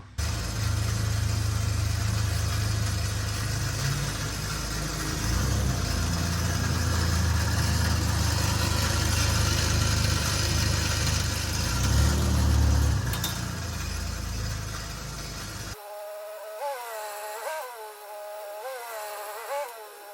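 A car engine after a new transmission install, idling then driving with a low steady rumble and road noise, close, followed by a buzzing whine with cyclic rises in pitch near the end.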